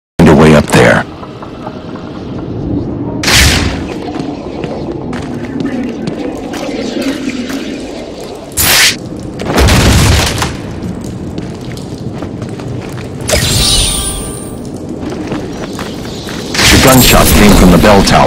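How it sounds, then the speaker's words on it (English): Sharp gunshots ring out in a scene from the game Batman: Arkham City, several loud bangs scattered among stretches of background ambience. "Gunshot came from the bell tower."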